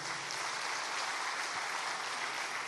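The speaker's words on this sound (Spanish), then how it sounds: "Y un aplauso para ustedes y para todos," An audience applauds at the close of an evening event, a steady, dense wash of clapping heard at a distance with no break across its short length.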